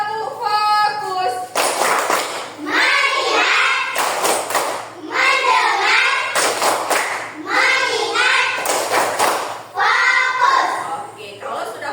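Schoolchildren in a classroom run through the 'tepuk fokus' clapping routine, with voices chanting in rhythm and sharp group claps landing in regular bursts across the whole stretch.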